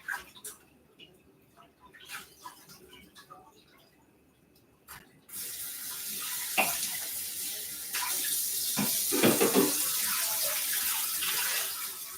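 A tap runs while a pan is washed out in a home kitchen, with scattered light clinks at first, then a steady, louder stream of running water that fills the second half.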